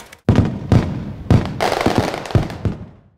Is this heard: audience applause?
no